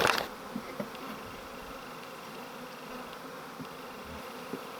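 A swarm of honey bees buzzing while being rescued from the ceiling of a farm building, a steady low hum throughout with a few louder passes near the microphone and a brief knock at the start.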